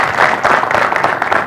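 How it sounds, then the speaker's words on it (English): Brief, close applause from an audience at a presidential nomination media chat, a dense burst of many hands clapping with no talk over it. "Round of applause."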